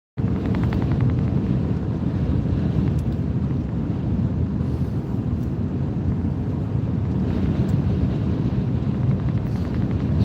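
Steady, heavy wind buffeting the microphone in a continuous low roar, loud and unbroken throughout with no voices.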